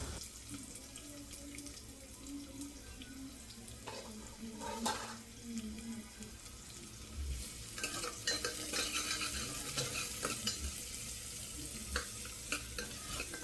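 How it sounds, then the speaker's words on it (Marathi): Onion sautéing in hot oil with curry leaves gives a soft, low sizzle, with scraping stirs and a watery hiss that grows louder partway through, all fairly faint and without talk. "कढीपत्ता झाला की लगेच कांदा परतून घ्यायचा आहे आपल्याला"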